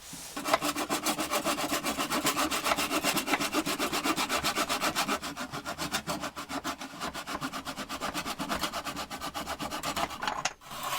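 Hand saw cutting wood in a Parkside adjustable miter box, a steady rapid back-and-forth rasping of repeated strokes, close and continuous for about ten seconds with no talk.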